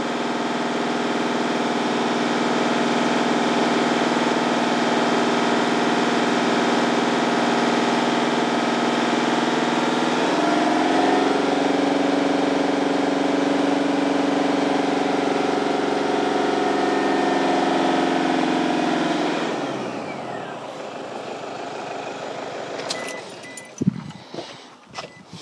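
A vehicle engine idles while charging a lithium battery through a DC-to-DC charger. The loud, steady drone holds for about twenty seconds, shifts slightly partway, then winds down and stops, leaving a few scattered clicks and knocks.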